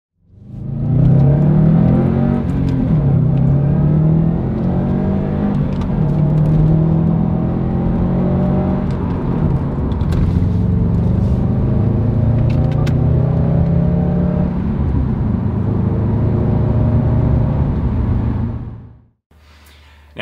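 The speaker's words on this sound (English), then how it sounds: "Now in terms of that exhaust noise, as I said, it does sound really good" A Subaru WRX STI fitted with an Invidia Q300 exhaust drives along, its deep engine note rising and falling through gear changes, loud and continuous from inside the car, with no talking, then cutting off at the end.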